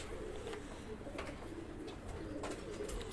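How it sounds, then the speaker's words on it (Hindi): Pigeons coo softly in a quiet rooftop loft, a few low repeated coos at close range. "ये दोनों कबूतर देखिए"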